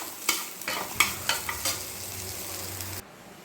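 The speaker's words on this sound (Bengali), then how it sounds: "ছানাগুলো দিয়ে আমি একটু ভেজে নেব ছানাগুলোকে।" Chhana (cottage cheese) fries in hot ghee in a pan, with a soft sizzle and several sharp spatula scrapes and taps over about three seconds, then the sound cuts to near quiet.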